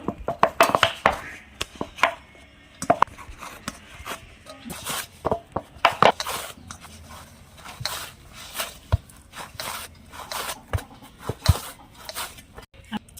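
Warm rice flour dough for puli pitha is kneaded by hand, making irregular squishing, slapping and patting sounds close up in uneven bursts.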